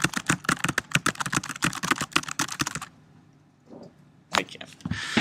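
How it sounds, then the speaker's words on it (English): Rapid, dense clatter of fingers on a computer keyboard, close and crisp for about three seconds, then a short pause with a faint shuffle before another quick burst of keystrokes. "Boy, I never knew I could type this fast."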